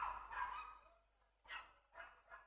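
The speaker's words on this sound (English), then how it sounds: "the dog is barking like crazy out there on the street" Dog barking outdoors on a street, several separate barks in uneven bursts with pauses between, moderately distant and fairly quiet, no talking.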